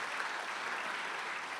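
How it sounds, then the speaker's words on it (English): A crowd claps steadily, a dense, even wash of applause that holds at the same level throughout without voices on top. "I think they all deserve a big round of applause"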